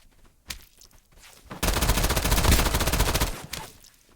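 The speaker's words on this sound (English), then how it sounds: "It's the electrified bullets." Electrified bullets fired in Escape From Duckov: a loud, sustained rapid burst of automatic gunfire lasting about two seconds, preceded by a couple of isolated single shots, with no talking over it.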